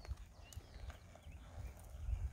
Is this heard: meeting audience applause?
no